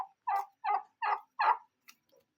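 Turkey on a Liberian farm gobbling in a quick run of four loud, close bursts, followed by a couple of fainter short calls, with no talk over it.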